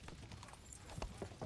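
Horse hooves clip-clop in a video game, a quiet run of irregular hoof knocks over a faint background bed, with no speech.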